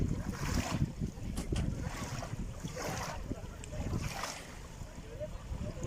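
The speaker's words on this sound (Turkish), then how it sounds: "Bu gezi tekneleri her gün buraya geliyorlar." Low rumble of tour boat engines in a bay, steady wind and lapping waves, with distant voices now and then.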